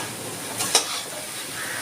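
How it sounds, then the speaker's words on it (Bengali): Prawns go into a hot pan with a short hiss, a sharp clink as they land, and then a steady soft sizzle. No one speaks. "এবার দিচ্ছি কটা চিংড়ি মাছ।"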